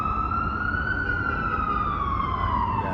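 An ambulance siren wails steadily, sliding slowly in pitch as it moves through heavy traffic, loud and close over a low rumble of road noise, with no talking.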